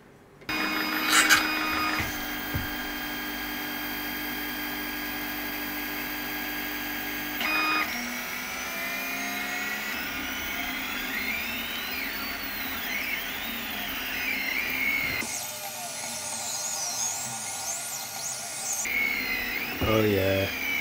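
A Tevo Little Monster 3D printer runs close by with a steady motor whine and hum, its stepper tones shifting and sliding in pitch as the print head moves.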